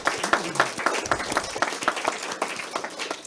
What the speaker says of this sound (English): So can we give our explorers a round of applause?